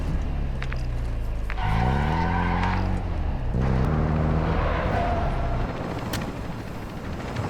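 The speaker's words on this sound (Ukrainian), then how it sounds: "А, почекайте, машина не їде. Все, їде." A car drives in the Call of Duty Warzone DMZ video game, its engine revving up and shifting pitch with tire skids and squeals, loud and continuous over game background noise.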